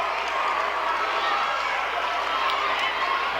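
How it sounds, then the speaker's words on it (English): A basketball crowd roars in reaction to a play during a high school game, a sustained, dense wash of cheering that stays loud and even throughout. "with that kind of reaction you get from the crowd, it just pumps up the team"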